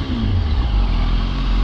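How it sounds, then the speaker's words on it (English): A Toyota Supra drives close by on the road, its engine giving a loud, steady mid-pitched rumble that gently rises in pitch as it passes. No one speaks over it. "Ooh, nice Supra."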